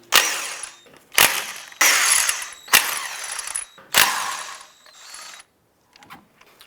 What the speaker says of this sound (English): Using a 19mm socket, we'll go ahead and remove the lug nuts.